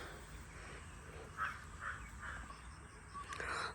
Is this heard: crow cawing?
yes